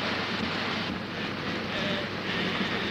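A train in a 1936 Hitchcock film runs with a steady, dense rumbling roar that stays loud and even throughout, with no talking.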